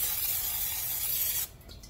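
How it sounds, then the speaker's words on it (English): Cooking oil sprays in a steady, close hiss into a pan on medium-high heat for about a second and a half, then stops abruptly, leaving faint kitchen sounds. "I'm going to spray a little bit of oil in the bottom"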